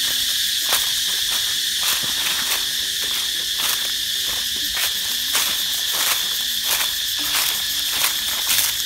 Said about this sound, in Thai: โอ้จักรจันทร์ก็ถือว่าเยอะอยู่เนาะ